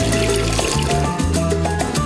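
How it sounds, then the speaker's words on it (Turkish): Water poured from a container into an empty plastic trash bag, a loud steady gushing and splashing stream with a low gurgling fill, close up and alone. "Bu tüyo için suyu boş bir çöp poşetinin içine boşalt."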